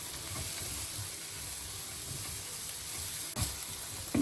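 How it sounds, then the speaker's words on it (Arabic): Chopped onion and minced garlic sizzle steadily in a frying pan while being stirred, with a continuous close hiss and a brief louder scrape or clatter near the end. "هنضيف عليها فصين من الثوم المفروم. ونبدأ نقلب فيهم مع بعض"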